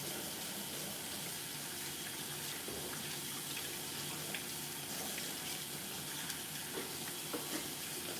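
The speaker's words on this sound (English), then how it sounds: "Sorry for the water noises, guys. I gotta get this shit off my hands." Tap water runs steadily into a kitchen sink while hands are washed during home cooking, a soft, continuous hiss with a few small splashy bumps and no talking.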